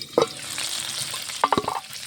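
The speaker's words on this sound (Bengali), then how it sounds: "বেগুনে মশলা দিচ্ছি।" Eggplant frying in a pan as spices go in, a steady oil sizzle broken by a few sharp stirring and scraping knocks near the start and again toward the end.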